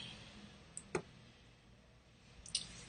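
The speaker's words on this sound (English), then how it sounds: "Let's click the link." Two faint, crisp computer mouse clicks on a web link, spaced about a second and a half apart in a quiet room.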